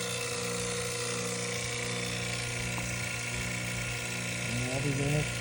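A vacuum pump evacuates the refrigerant line of a Mitsubishi Hyper Heat mini split during a house heating and cooling install. It gives a loud, constant mechanical drone throughout, and a voice briefly speaks over it near the end.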